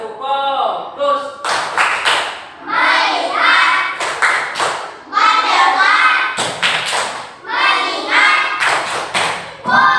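A classroom doing a rhythmic focus clap routine, groups of sharp clap bursts alternating with loud chanted voices of the class, repeated several times in a steady pattern.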